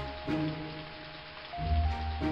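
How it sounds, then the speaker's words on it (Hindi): Steady soft patter of light rain on a surface, a continuous gentle hiss with a few louder swells, no voices. "हल्की सी हो रही बारिश मेरे कैंपिंग के लिए बढ़िया जगह है"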